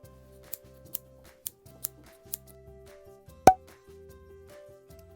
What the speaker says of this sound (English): more cutting.